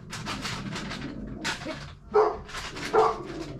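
Two dogs bark in short, sharp bursts, several yips and woofs close by with brief pauses between them.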